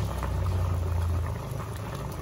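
Chicken feet adobo simmering in a pot with plenty of broth, a steady low rumbling bubble with faint crackle, close and continuous with no voices.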